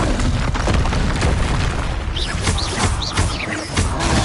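Fire spell bursting in Hogwarts Legacy during a fast combat exchange, a loud continuous roaring blast with booming crackle and short whooshing swells throughout, no talk.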